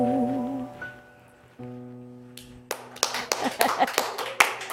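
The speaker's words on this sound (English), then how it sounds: "Deserves a slow clap." After sustained musical tones fade, a few sharp claps ring out in a slow, uneven series that gradually picks up, close and crisp, with light rustling between them.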